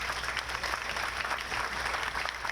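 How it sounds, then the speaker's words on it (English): An outdoor audience at a 2017 Memorial Day ceremony claps steadily, a dense, moderately distant patter of many hands that holds even throughout. "Let's give Fred a big round of applause."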